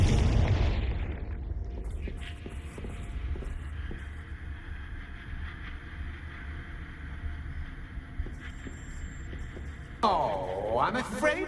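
A Confringo blasting spell in Hogwarts Legacy detonates with a loud booming burst at the start, then a low rumbling hum lingers, with another magical whoosh near the end and a voice briefly over it.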